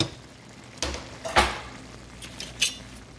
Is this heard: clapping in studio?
no